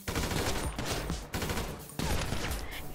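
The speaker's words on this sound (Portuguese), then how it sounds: "Segura ele, Cristal, dá tiro pra ele não entrar." Dense bursts of rapid gunfire in a GTA roleplay police shootout, loud and continuous with short breaks between volleys, close and intense.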